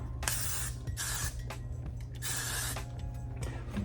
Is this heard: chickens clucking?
no